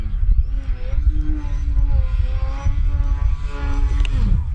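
RC 3D propeller airplane in a knife edge spin, a loud electric motor and prop whine with pitch rising and falling as the throttle changes, heard close and continuous.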